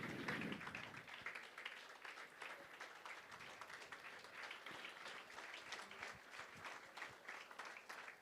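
Audience applause at a Sunday career seminar on design, fine and performing arts, architecture and medicine: fairly faint, steady clapping throughout, with a brief voice at the start.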